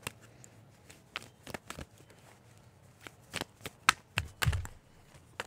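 Tarot cards being shuffled and tapped into a deck by hand, a series of soft, irregular riffles and flicks up close, quiet between strokes, with a few sharper taps near the end.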